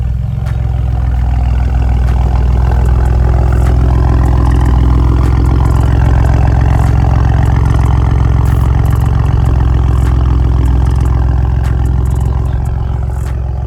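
A first edition Ford Bronco runs with a new aftermarket exhaust, giving a loud, steady low rumble and gurgle at close range that swells slightly mid-way, with no talking over it.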